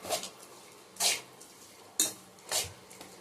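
Ground nuts being stirred into ghee in a pan, a spoon scraping the metal in four distinct strokes about a second apart, close and fairly quiet with no talk.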